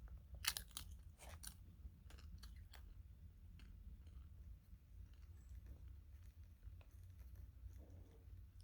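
Crunchy chewing of PeaTos nacho cheese pea chips, close to the ear, with irregular crisp bites and crackles spread across several seconds, fairly quiet with no talking.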